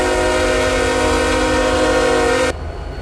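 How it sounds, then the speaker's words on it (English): A Canadian Pacific ES44AC freight locomotive in a model train video game sounds one loud, sustained chord horn that holds steady for about two and a half seconds and then cuts off abruptly, leaving a low rumble. "Turn the speakers up and you hear this train horn noise"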